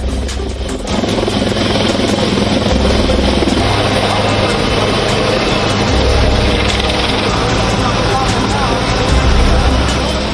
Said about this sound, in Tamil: மீட்பு பணியில் இறங்கியது விமானப்படையின் ஹெலிகாப்டர்